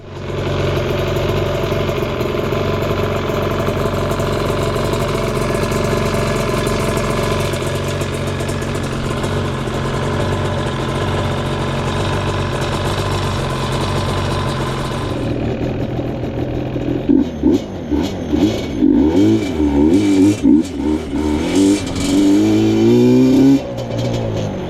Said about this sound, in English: So I'm going to fire this thing up, and we're going to go ride around for a minute